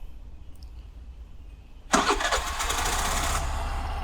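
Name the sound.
Suzuki Burgman 125 scooter engine push-starting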